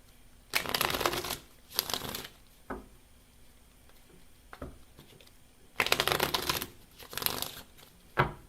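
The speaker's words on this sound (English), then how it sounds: "Can't even shuffle the cards without them flying out." Tarot cards shuffled by hand in two bursts of brisk riffling, then a few soft taps, then two more shuffling bursts up close, with no talking.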